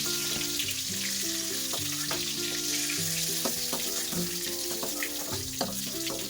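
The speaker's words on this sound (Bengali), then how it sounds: "আমার কিন্তু পটলগুলো ভাজা হয়ে গেছে, আমি কিন্তু পটলগুলোকে তুলে নিচ্ছি" Pointed gourd sizzles in hot oil in a pan, a steady crackling hiss broken by scattered clinks and scraping as the fried pieces are lifted out.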